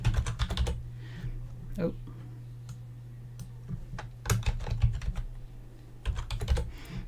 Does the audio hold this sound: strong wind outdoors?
no